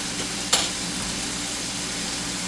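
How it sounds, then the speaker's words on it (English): Beef stir fry sizzling in a hot pan while being stirred, a steady broad hiss with one sharp utensil knock near the start, close and continuous with no voices. "We're going to stir in we're going to mix in the beef in here."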